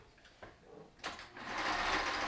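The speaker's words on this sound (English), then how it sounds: "we're going to sew the top sides of every single one" A sewing machine stitching the top sides of fabric face masks, a couple of faint clicks before the motor starts and settles into a steady close whirring run.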